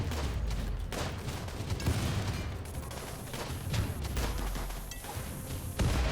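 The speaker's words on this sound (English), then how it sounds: "So the rocket launcher did cause the turrets to eventually explode" Turrets blowing apart under rocket launcher fire in RimWorld, a dense run of overlapping blasts and gunfire-like bursts, steady and loud across the whole stretch with heavier booms near the end.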